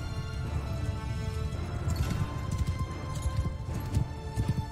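Cavalry horses gallop in Mount & Blade II Bannerlord, a dense, continuous thunder of hooves with occasional clashes and battle noise, loud and close throughout.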